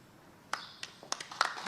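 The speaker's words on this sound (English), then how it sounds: "Thanks, Mayor, for leading off with those applause." Sparse, scattered hand claps at a Hamilton federal infrastructure announcement, a few separate claps that pick up slightly, faint and fairly close, no talking over them.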